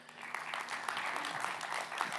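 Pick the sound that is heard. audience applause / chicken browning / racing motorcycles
audience applause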